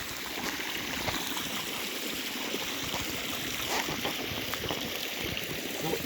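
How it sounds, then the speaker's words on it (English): Water from a reservoir tank, driven by a solar-powered pump at a resort hotel swimming pool, pours out in a steady, dense splashing rush, close and constant throughout with no voices. "This water is being pumped from a reservoir tank over there"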